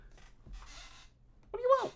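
A pet house cat meows once up close, a rising-then-falling call following a stretch of faint room noise.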